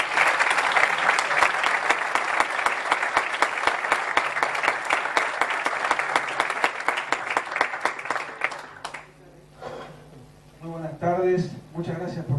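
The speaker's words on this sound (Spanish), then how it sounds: "Un fuerte aplauso, por favor." Loud applause from a conference audience in a Murcia hotel, a dense wash of clapping that carries for about eight seconds and then stops, giving way to someone speaking.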